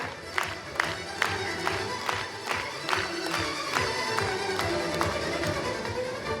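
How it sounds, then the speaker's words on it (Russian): A theatre festival closing ceremony audience claps for an actress: rhythmic, evenly spaced loud beats of unison clapping over a bed of crowd noise and scattered cheers. "Аплодисменты Ирине"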